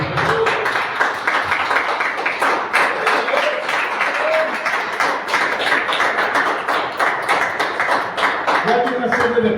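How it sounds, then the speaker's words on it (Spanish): A church congregation claps together during a sermon, with a dense, continuous patter of hands filling the room and voices underneath. "Den un aplauso al Señor."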